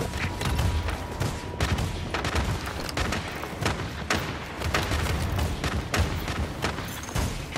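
Heavy cannon fire and explosions in a video game, a dense, continuous barrage of booming blasts and gunfire volleys that rolls on throughout without pause.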